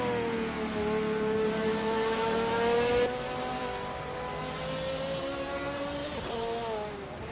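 2021 Ford Mustang Trans Am race car engine in a racing game, a loud, high, whining engine note, with pitch rising and falling through gear changes and a sharp shift around the midpoint.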